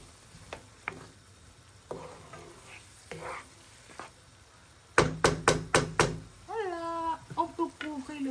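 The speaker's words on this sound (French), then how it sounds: "Et on touille." Couscous and vegetables stirred in a frying pan with a utensil: a few soft scrapes, then a quick run of sharp knocks against the pan, followed by a light sizzle, with a cat meowing nearby.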